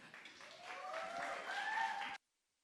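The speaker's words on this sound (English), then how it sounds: "Give him a warm round of applause." Conference audience applauding a speaker at a crypto event, a sustained, fairly distant patter of many hands with a few whistle-like tones rising through it, cutting off abruptly into silence.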